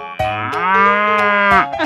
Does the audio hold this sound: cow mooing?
yes